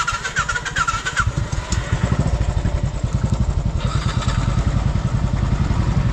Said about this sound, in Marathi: तर आता बाईक घेऊन तिकडे जाऊया.